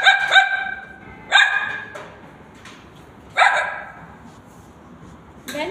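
A person imitates a dog barking, giving a few sharp, loud barks spaced apart with quiet gaps between them.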